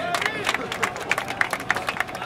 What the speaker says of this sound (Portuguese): Palmas para a batalha.